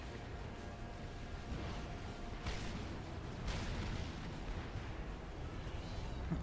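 Tactical missiles launch in Supreme Commander: Forged Alliance Forever during a 4v4 match: two muffled booming bursts rise over a continuous low battle rumble, at mid distance.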